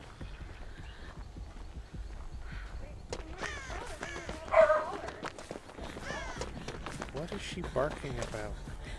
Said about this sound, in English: What is this dog barking at?